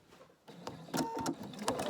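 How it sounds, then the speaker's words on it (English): A sewing machine whirs and clatters in uneven bursts after a quiet start, its motor speeding up and slowing close by. "My sewing machine is basically my sketching pencil."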